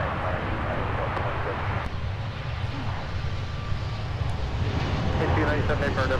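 An airliner landing at Minneapolis–Saint Paul airport, heard as a steady distant jet engine roar under continuous radio chatter and talk.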